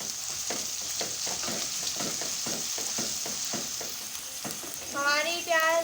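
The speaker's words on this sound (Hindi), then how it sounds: "ये हमारी प्याज फ्राई हो रही है।" Chopped onions sizzle steadily in a hot oiled pan for Hyderabadi aloo bharta, with repeated scraping stirs of a spoon through the pan, close up; a brief metallic ring near the end, no talking.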